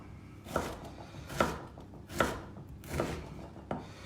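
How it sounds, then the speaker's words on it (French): A knife chops food into small pieces for a Finnish pulla brioche, five evenly spaced cuts on a board, moderately quiet and close, with no talking. "On coupe des morceaux petits comme ça."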